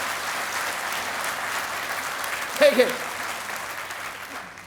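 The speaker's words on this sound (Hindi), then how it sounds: "ऐसा कृपा करके अभी ताली बजाइए उन बच्चों के लिए" An audience at a formal gathering applauds for children, a steady wash of hand-clapping running throughout with a brief louder swell midway and a few spoken words near the start.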